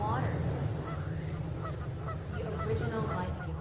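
Geese honk repeatedly in a loud, continuous clamor of overlapping calls, with a faint murmur of voices beneath.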